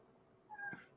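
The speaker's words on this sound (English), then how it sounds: "I'm getting sidetracked by the cat meowing." A cat lets out one short meow, distinct and fairly near, after a moment of quiet room tone, with nobody speaking.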